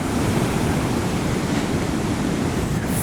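Ocean surf rolls in at a beach with a sandbar where a kayak angler is launching, producing a steady, loud, broadband roar of breaking waves that continues unbroken throughout, with no voices.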